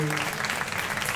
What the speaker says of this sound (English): bring a round of applause to our panelists